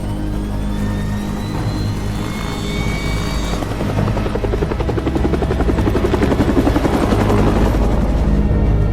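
A helicopter in a movie action scene roars with a loud, continuous rotor thrum, its chopping pulse growing more pronounced and steady toward the end.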